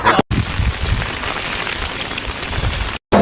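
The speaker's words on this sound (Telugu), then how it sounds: "ఇంకోసారి భారీ వర్షం పడుతుంది" Heavy rain pours down steadily during Cyclone Montha in a village, a loud, dense, continuous hiss of drops on surfaces with no voices, broken only by two brief silent gaps.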